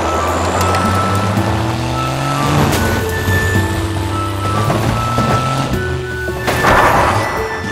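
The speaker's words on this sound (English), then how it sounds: "The orange monster truck." A monster truck engine drones loudly and steadily nearby, rising and dipping in pitch as it revs, with sharp knocks and a rushing burst near the end.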